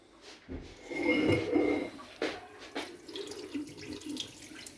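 Water rushing through the hot water section of a plate heat exchanger to flush out dirt, a loud close gush with splashing and a few knocks, fading into irregular trickling.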